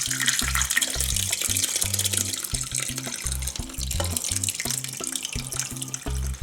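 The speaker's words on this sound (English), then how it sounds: "gently pour our ricotta mixture into our sieve" Homemade ricotta cheese mixture is poured steadily into a sieve, making a continuous splashing, trickling liquid sound with irregular gurgles. It stays fairly close and even throughout, with no voices.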